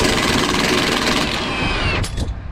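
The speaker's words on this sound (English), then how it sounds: "we're going to remove this bolt from the panhard bar" A bolt being removed from the panhard bar mount on a Mustang: a loud, steady mechanical whirring close by that cuts out near the end, with a couple of brief bursts after.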